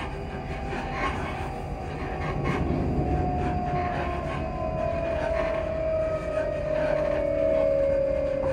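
A ScotRail passenger train runs with a loud, steady rumble heard from aboard, a rising and falling motor whine sliding slowly downward over continuous rail noise.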